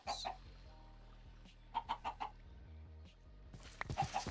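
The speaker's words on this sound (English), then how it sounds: "Will you tell me the secrets, chickens?" Chickens in the Minecraft video game cluck in short, separate bursts, several quick clucks in a row with a pause between groups, fairly faint over a quiet low game hum.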